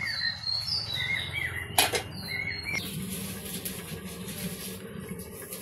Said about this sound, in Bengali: পাখি শব্দ করতেছে।